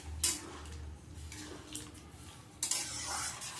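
A spoon scrapes and clinks now and then against the pot while khichuri with freshly added hot water is stirred, faint soft sizzling underneath and a couple of sharper metallic strokes.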